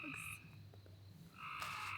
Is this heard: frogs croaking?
yes